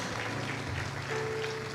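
Church congregation applauding in a temple during a sermon, a steady dense wash of clapping with a low hum or music tone underneath, moderately distant and continuous throughout.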